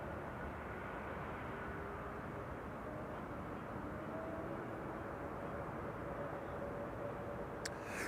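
Jet airliners on approach at Amsterdam Schiphol Airport make a steady, distant rumble that holds evenly throughout without any voices.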